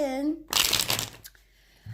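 A deck of tarot cards is shuffled in one short, dense riffling burst of papery flutter, just after a brief stretch of voice, then quiet with a faint soft rustle near the end.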